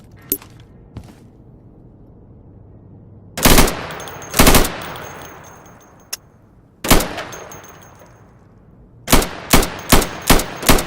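Gunfire at training targets through plywood in the video game Insurgency: loud, close single shots and short bursts, spaced apart at first, then a quick run of five shots at the end.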